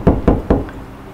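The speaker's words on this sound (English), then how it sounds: "Then I tried knocking." Knocking on a door in a horror visual novel game, three heavy evenly spaced knocks in quick succession, loud and close with a dull wooden thud, then quiet.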